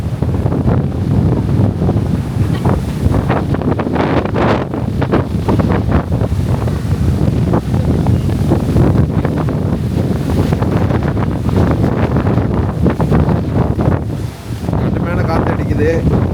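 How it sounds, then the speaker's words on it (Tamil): Strong wind roars and buffets the microphone continuously at Hudson Park, New York, a loud rushing gust that barely lets up, with possible surf in the background. "கடுமையான காற்று அடிக்குது"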